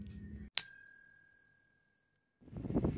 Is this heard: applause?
no